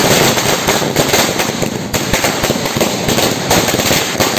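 Firecrackers set off by JD(S) party workers celebrating a new president's election crackle in a loud, dense, unbroken barrage of rapid pops, with no pause throughout.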